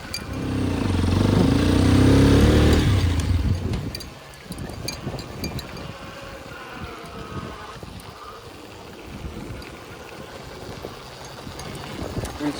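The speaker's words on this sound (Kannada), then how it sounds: "ನೋಡಿ, ಗಾಡಿನೇ ಸ್ಟಾರ್ಟ್ ಆಗೈತೆ" A Hero XPulse 210 motorcycle engine roars loudly at first, then drops to a rougher, uneven running sound with wind noise over the microphone.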